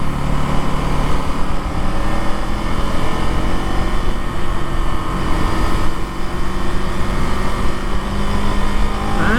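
A 2025 KTM Duke 390 Gen 3 motorcycle engine runs hard and loud throughout, a steady dense drone that sounds like sustained riding at high revs, with no talking.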